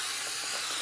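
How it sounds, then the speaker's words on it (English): Spray adhesive hisses steadily onto felt material during repair of a damaged unibody MacBook, a close, continuous aerosol spray with no talk over it. "we coat liberally the felt material with adhesive"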